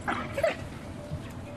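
African wild dogs playing together on safari give high squeaky yips and whines, a few brief calls over a low rumble of vehicle or ambient noise, moderately close.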